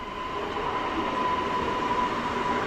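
An ŁKA (Łódź agglomeration railway) train from Łódź Fabryczna to Warszawa Wschodnia runs through Warszawa Zachodnia station on a frosty winter day, about minus 2 degrees. A steady, loud rumble of rolling stock continues throughout, with a thin sustained whine riding on top.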